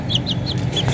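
Young chicken chicks cheep in quick, high, repeated peeps, close by over a soft, steady background hum.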